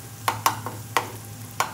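Onions frying in a pan for a sea bass curry, stirred with a utensil that scrapes and knocks against the pan about five times at uneven intervals over a low steady sizzle, close and fairly quiet.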